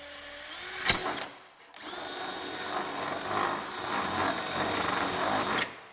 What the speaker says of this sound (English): Mark it to actually drill that screw, just like on the other side.